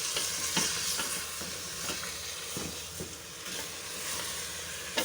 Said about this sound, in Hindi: थोड़ी सी ऊपर नीचे करके सारा अदरक लहसुन इसमें लगा लेंगे।